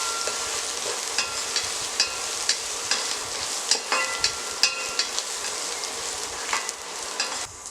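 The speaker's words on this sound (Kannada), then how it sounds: "ಒಂದು 7-8 ಹೆಸಳು ಬೆಳ್ಳುಳ್ಳಿ ಜಜ್ಜಿಟ್ಕೊಂಡಿರೋದು. ಇದು ಸ್ವಲ್ಪ ಫ್ರೈ ಆಗಲಿ" Crushed garlic frying in a pan for Karnataka-style drumstick sambar, a steady close sizzle with repeated light scrapes and taps of a spoon stirring through it.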